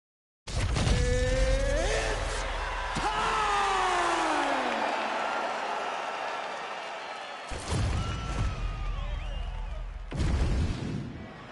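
Virtual arena crowd in the UFC 5 video game roaring and cheering as Rose Namajunas returns, a loud sustained swell of crowd noise with sudden bursts and abrupt cuts, shouts and whoops rising above it.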